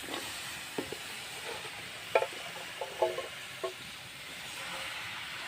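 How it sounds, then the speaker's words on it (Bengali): Washed red amaranth leaves fry in a wok, a soft constant sizzle broken by a few scattered clicks and scrapes of stirring, fairly quiet and without talk. "এবারে কড়াইতে দিয়ে দিলাম ধুয়ে রাখা লাল শাক।"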